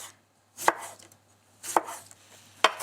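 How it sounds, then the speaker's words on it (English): A knife finely chops pickles on a cutting board: three crisp, separate thuds spaced about a second apart, close and clear against near silence. "Pickles, I'll just finely chop the pickles"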